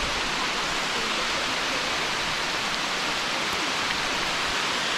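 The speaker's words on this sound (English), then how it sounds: "it's dumping rain" Heavy rain pours down along the GAP and C&O bicycle trail, a loud, dense, unbroken roar of water filling every moment.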